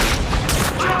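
Gunfire from the PS2 game Call of Duty, a short burst of rifle shots crackling through a busy battlefield mix, loud and close, with several overlapping reports over about a second.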